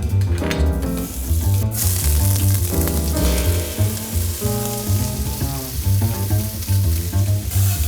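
Shiitake mushrooms browning in a hot pan give a steady, close sizzle with occasional stirring, partly buried under loud background music throughout.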